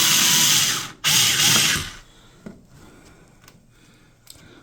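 Power drill driving a screw into a light switch plate, two loud, close whirring bursts of about a second each with a short break between them, followed by quieter handling clicks and taps.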